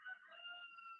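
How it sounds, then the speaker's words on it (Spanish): A rooster crows faintly in the distance, a thin drawn-out call heard over an online call connection, quiet and alone without talk. "¡Uy, un gallo!"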